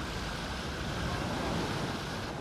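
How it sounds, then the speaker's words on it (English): Rough sea churned up by a nor'easter storm, waves up to 12 feet, heard from aboard a sailboat as a loud, continuous roar of surf and wind. "The nor'easter churns up waves as high as 12 feet."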